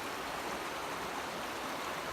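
Mission Creek in Kelowna, British Columbia flows in a constant close rush of broadband water noise, steady and unbroken with no voices.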